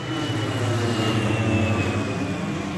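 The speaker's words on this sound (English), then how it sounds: "We got a plane coming in." A transport plane, apparently a Bundeswehr Transall C-160, approaches overhead at a military exhibition near an airfield, giving a steady, loud drone of engine and propeller noise that holds throughout without any talk.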